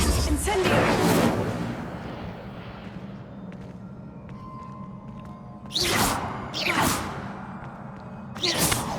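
A fire spell cast in the video game Hogwarts Legacy bursts out in whooshing flares, a first blast followed by two more close rushing surges, with a low ambient drone of the game world in between.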